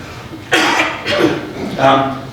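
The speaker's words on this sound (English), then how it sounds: "I'm still going to cough every now and then" A male presenter at a tile industry conference gives a few harsh, close coughs in quick succession, each a rough burst of breath close to the microphone.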